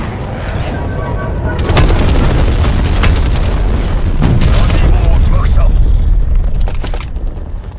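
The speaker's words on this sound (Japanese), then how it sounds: "ダーティーボムを起動した。" A dirty bomb detonation in Call of Duty: Black Ops Cold War multiplayer booms loud and heavy, followed by a rolling roar with crackling blasts and scattered gunfire-like cracks that fade over several seconds.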